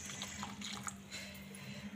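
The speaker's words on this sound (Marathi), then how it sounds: "मी मिक्सरच्या भांड्यामध्येच गरम पाणी घेतलेलं आहे। तर गरम पाणी घालते" Hot water is poured into a mixer jar in a home kitchen, a soft, continuous trickle and splash heard faintly up close.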